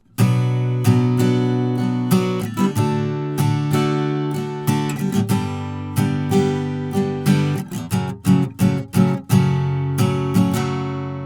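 Guitar chords from the chorus are strummed in a steady rhythm, ringing bright and full, with sharper rapid strums clustering toward the end.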